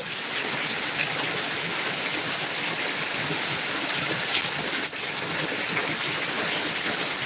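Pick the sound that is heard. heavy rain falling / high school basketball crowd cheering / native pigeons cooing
heavy rain falling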